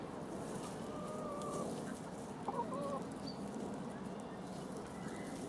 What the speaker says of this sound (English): these chickens are not scared of me at all, so they must be familiar with walkers